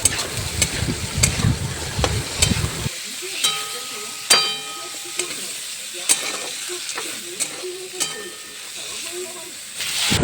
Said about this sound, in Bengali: তারপর একে একে সব সবজি দিয়ে দিচ্ছে, বাঁধাকপি, তারপরে এরপর দিচ্ছে গাজর, আবার এরপর যে টমেটো। ভালো করে সব নেড়ে চেড়ে নেবে।